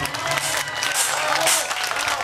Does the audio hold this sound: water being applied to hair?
no